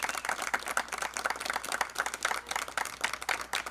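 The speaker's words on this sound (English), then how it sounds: "And please, another round of applause for Zack." Applause from a crowd at a graduation ceremony, a dense, even patter of many hands clapping that keeps going without pause and with no one speaking.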